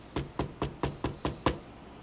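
Seven sharp knocks rap on a wooden surface at an even, brisk pace of about one every quarter second. They sound close and clear, with no voice.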